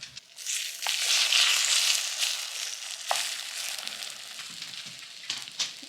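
Egg foo young sizzles loudly in a heated Crownful 4-inch mini waffle maker with no oil, a steady hiss of frying with a few small crackles and pops near the middle and end.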